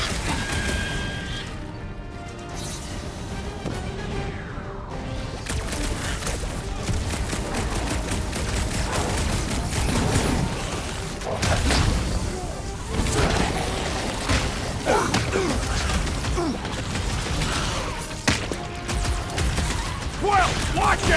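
Dense gunfire and crashing explosions from the Guardians of the Galaxy video game rattle on continuously, loud and close, with rapid bursts and booms under shouted character dialogue.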